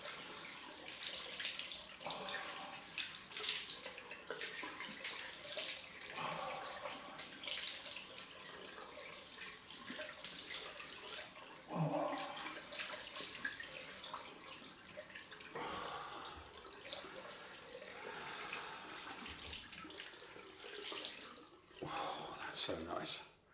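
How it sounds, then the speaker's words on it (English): Cold tap water runs steadily into a sink while someone splashes and rinses their face after a straight-razor shave, with broken gushes and splashes throughout and a voice speaking at times. "Cold splash, cold rinse."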